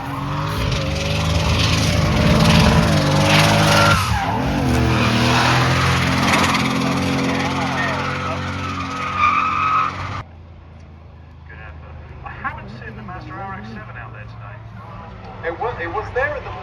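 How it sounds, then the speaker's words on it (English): A drift car at a drift event revs hard and its tires skid in a long screeching slide, loud and close, then the sound cuts to fainter engine noise further off while a commentator talks throughout. "A bit too much drift on there, Alexi."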